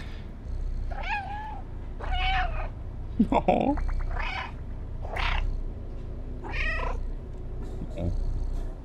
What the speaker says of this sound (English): It's kind of adorable that I can just sit there and meow.